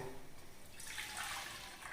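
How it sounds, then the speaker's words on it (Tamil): Water poured from a vessel into a cooking pot while making a home remedy for cold and cough, a soft splashing gush that starts partway through and runs about a second, faint and close. "இப்போ இதை தண்ணி ஊற்றிட்டு இந்த பாத்திரத்தில் சேர்த்துடலாங்க"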